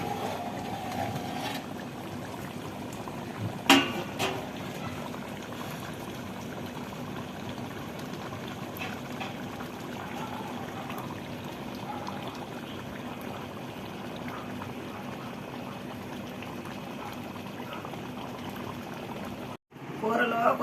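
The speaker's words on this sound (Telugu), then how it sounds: "చేపల కూర ఉడుకుతుందండి." A pot of mango fish curry simmers with a steady, low bubbling, heard close and unbroken for a long stretch. A single sharp knock sounds early on, and near the end there is a brief gap of silence.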